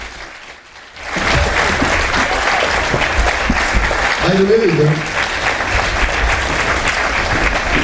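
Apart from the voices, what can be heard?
audience applauding in theatre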